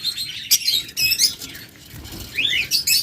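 Pet birds kept in pairs at a large bird farm chirp and tweet in quick, bright bursts, several calls overlapping, with short quieter gaps and a flurry of chirps near the end.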